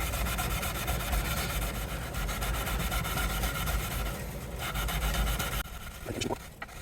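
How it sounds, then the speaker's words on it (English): Steel wool rubbing the frets of a Dean bass guitar, a continuous scratchy rasping with a quick repeated stroke rhythm, fairly close and moderately quiet, stopping briefly near the end. "So we'll do a little steel wool."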